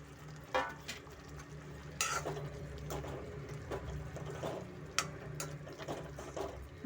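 Fried brinjal is added to a pan of gravy and stirred, giving soft scraping and clinking of a spoon against the pot, with a faint sizzle and several sharper knocks throughout.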